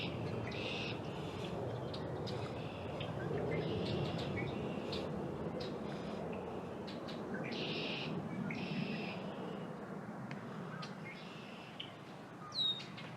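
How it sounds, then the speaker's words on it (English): Many birds calling in the background outdoors: scattered chirps and short high calls over a faint low hum of distant traffic, quiet and far off throughout. "there are a lot of birds making noise in the background"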